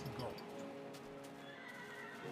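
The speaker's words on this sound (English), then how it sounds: "look, a black horse" A horse in the video game Minecraft neighs once in a short whinny, with faint clip-clop footsteps around it against a steady game background.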